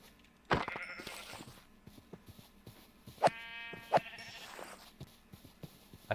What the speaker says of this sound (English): See another sheep. This one's far. Ooh, multiple sheep.